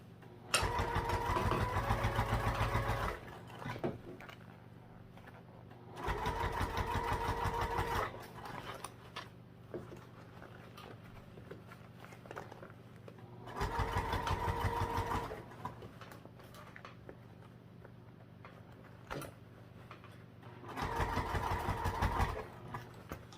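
A sewing machine stitches a backpack seam in four bursts of steady, close mechanical whirring, with quieter pauses between runs.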